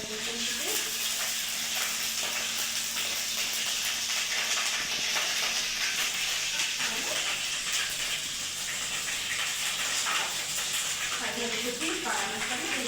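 Onion paste and ginger-garlic paste fry in hot oil, giving a continuous close sizzle with occasional stirring scrapes throughout.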